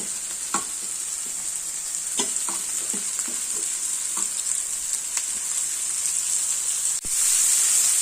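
Bitter gourd sautéing with onions, green chillies and curry leaves, a loud constant sizzle close by, punctuated by a series of sharp scraping stirs, ending in a brief surge of hissing.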